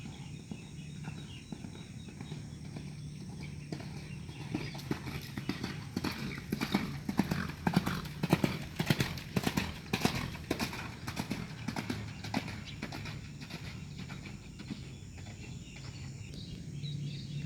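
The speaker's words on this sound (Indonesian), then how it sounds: "Nah sekarang ada salah seekor kuda ya dengan posisi larinya center nih." Racehorse hooves gallop on a racetrack during training in Sumedang, a rapid clip-clop that builds in the middle and stays steady throughout, with a faint bird call in the background.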